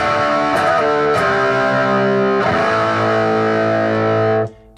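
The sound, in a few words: electric guitar with high gain distortion through Positive Grid Spark 40 amp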